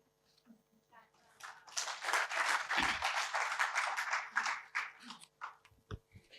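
An audience at a Marathi poetry recital bursts into applause, a dense wash of clapping that swells quickly, holds for several seconds, then thins out into a few scattered claps.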